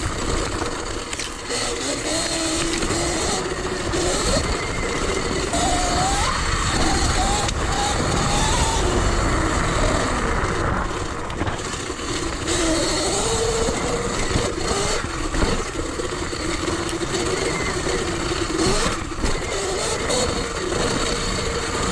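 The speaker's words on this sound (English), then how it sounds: "So I took the bike out" A Sur Ron electric dirt bike is ridden outdoors on a fine day, its motor whine rising and falling steadily under loud wind rush for the whole stretch.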